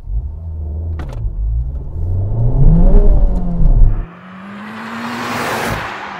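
A Honda car engine revs hard against a soft rev limiter, rising and bouncing in loud, close bursts, then dropping to a lower, steadier drone as the car drives along.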